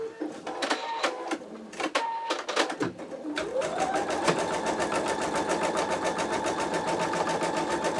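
An embroidery machine fitted with a Sew Tech PA116M magnetic hoop starts with a few separate mechanical clicks, then spins up into steady, rapid stitching whose fast even chatter carries on close and alone.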